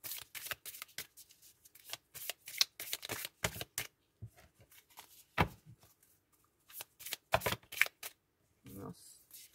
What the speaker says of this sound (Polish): wyciągniemy dla Was jeszcze karty wyroczni